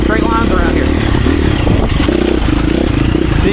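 A 2024 KTM 350 EXC-F on knobby tyres cruises along a straight road, its engine a loud, steady low drone under heavy wind rush and rattling clatter, with no change in pace.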